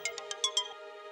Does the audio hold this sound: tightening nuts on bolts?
no